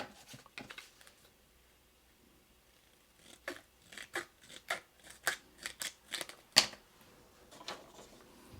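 Scissors trim a paper card in a close, quiet series of short crisp snips, sparse at first, then a quick rhythmic run of cuts ending with one sharper snip.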